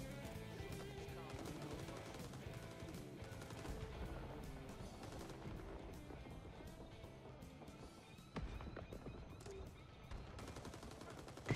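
Dense gunfire in the Vietnam War shooter Rising Storm 2: Vietnam, with overlapping rifle and machine-gun bursts rattling steadily throughout and distant crackling shots layered under a continuous battle din.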